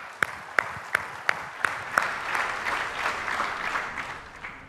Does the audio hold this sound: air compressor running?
no